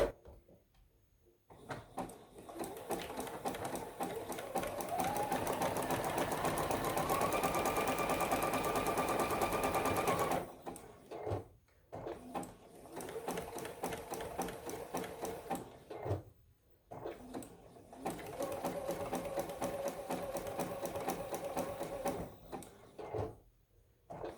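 A sewing machine back stitching quilt blocks, running in long steady whirring bursts with brief pauses and a shift in pitch as it reverses, close and alone.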